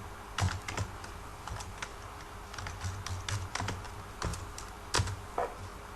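Keys clack steadily on a computer keyboard as tuple values are entered in Python, with sharp close taps and a few heavier strokes over a quiet room, no talking.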